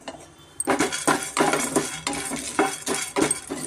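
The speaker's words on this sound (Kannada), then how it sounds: "pumpkin seeds ಹುರ್ಕೊಳ್ಳೋಣ" Pumpkin seeds being dry roasted in a pan, stirred with a utensil in a rhythmic series of scraping, rattling strokes, close and clear with no talk.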